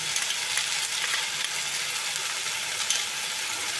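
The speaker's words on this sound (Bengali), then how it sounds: "তো তৈরি করে রাখা মশলাটা আমি এর মধ্যে এখন দিয়ে দিলাম" Spice paste with ginger hisses and crackles as it fries in a pan for a vegetarian pea-greens ghonto. The sizzle is loud and continuous, with a few small clinks, and no one speaks.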